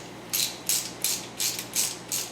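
A ratchet snugs bolts on a Chevy 350 engine in a 1973 C10 build, six quick evenly spaced bursts of clicking, close and clear with no voices.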